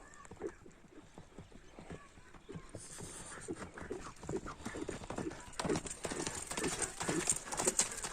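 Hooves of a Kyrgyz horse clip-clop in a steady walking rhythm, fairly faint and nearby, with the footfalls growing busier and slightly louder toward the end.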